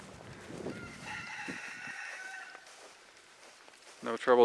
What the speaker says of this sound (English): Nice and loud, little rooster.